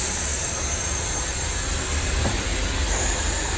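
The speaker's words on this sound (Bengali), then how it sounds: "এখন আস্তে আস্তে আমি ছাড়বো, এয়ার প্রেশার রিলিজ হয়ে যাবে, আপনারা সাউন্ডটি শুনতে পাবেন।" A continuous, loud rushing hiss of air pressure releasing from train brakes in the train guard's cabin, with a steady high-pitched tone running through it.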